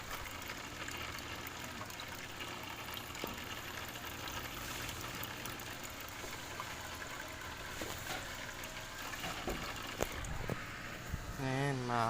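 Steady splashing trickle of an aquarium waterfall pouring into a fish tank, continuous and fairly faint, with a low hum running underneath.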